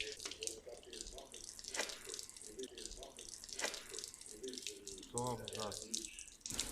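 After rain, water drains out of clogged openings in the bodywork of a Skoda Octavia 1.9 TDI, trickling and splashing quietly nearby. People talk over it intermittently.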